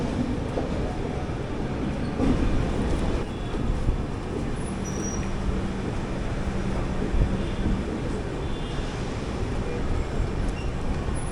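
Inside the Kakinada Port–Sainagar Shirdi Express (17206) on the run from Vijayawada toward Shirdi, a steady rumble of rolling coaches holds throughout, with faint rail clatter and a few distant voices underneath.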